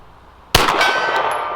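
A MagTech bullet strikes a silver steel gong target at 50 yards, giving one sharp metallic clang that rings on with a sustained shimmering tone.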